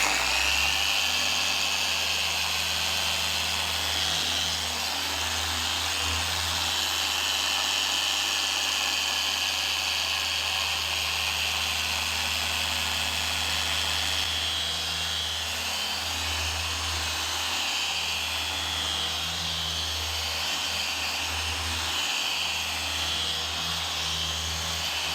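A dual action polisher runs at speed 4.5 on the paint of a 2016 Bentley Continental, a steady close-up whine and motor hum that holds evenly throughout.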